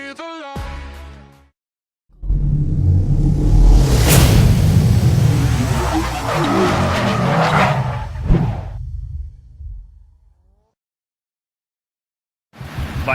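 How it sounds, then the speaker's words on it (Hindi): A motorbike engine warms up in Kasol in the Parvati Valley, a loud, steady rumble lasting about eight seconds after a brief tone, then fading to silence. "बाइक अभी गर्म हो रही है,"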